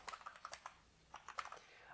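Quiet, close keystrokes clatter on a computer keyboard in quick bursts, pausing briefly midway before a second flurry of typing.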